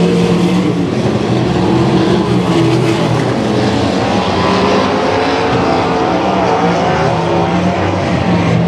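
USAC midget race cars run down the backstretch at an ARDC Midgets race, their engines forming a loud, continuous, overlapping roar with shifting pitch as the cars pass in single file.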